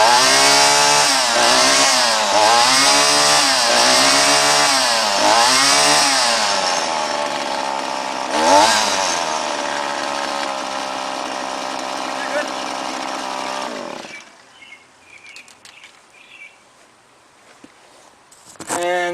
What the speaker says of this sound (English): let's see how the Shindaiwa runs